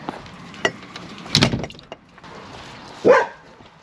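A dog barks a couple of times at a distance in a rural New Zealand backyard, sharp single woofs with a thud and quiet gaps between them.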